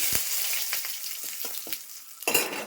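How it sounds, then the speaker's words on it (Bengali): Dry red chillies, cumin, cardamom and bay leaf crackle and spit in a hot kadai, a loud bright sizzle with sharp popping bursts and a few stirring scrapes. "কড়াই গরম হয়ে গেছে আমার তো শুকনো লঙ্কা জিরা আর এই যে এলাচ দিচ্ছি"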